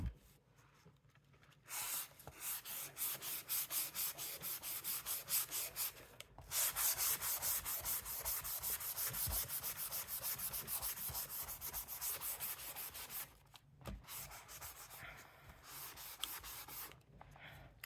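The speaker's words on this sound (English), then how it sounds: "Let's get a sanding block." Rhythmic scratchy sanding strokes with a sanding block, rubbing back and forth in bursts with short pauses between, close and fairly steady.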